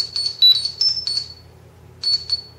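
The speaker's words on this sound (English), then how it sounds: "that sound was the communicator sound from Mighty Morphin Power Rangers" The Mighty Morphin Power Rangers communicator sound used as a text message tone: bright, high electronic chirps in a quick burst, a pause, then the burst starts again, close and clear.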